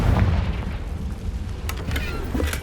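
A Confringo fire spell explodes in Hogwarts Legacy, a deep rumbling boom that lingers at moderate loudness with faint crackles and small pops scattered through the tail.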